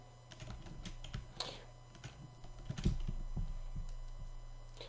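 Computer keyboard keys and shortcut combinations are pressed while modeling a car in 3D software, making close, crisp clicks in irregular clusters over a quiet room hum.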